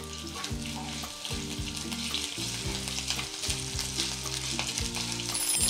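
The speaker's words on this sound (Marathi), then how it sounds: "जिरं मस्त फुललं की मिरचीचा ठेचा, साधारण 1-2 मिरच्या किंवा एखादी मिरची घेऊन ती अशी ठेचून घ्यायची आणि थोडा वेळ परतून घेऊयात" Cumin and crushed green chilli sautéing in oil, a continuous close sizzle under a repeating tonal melody of background music, fairly quiet throughout.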